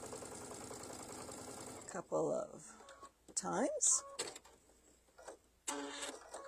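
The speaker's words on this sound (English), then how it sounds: "we're just going to sew right on our line" A sewing machine whirs and stitches fabric in short bursts, mechanical buzzing close by, alternating with someone speaking between runs.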